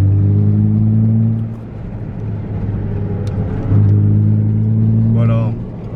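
A Nissan Z drives along a desert highway, its steady low engine drone and road rumble continuing throughout, with a brief dip in level partway through. A person talks over the cabin noise.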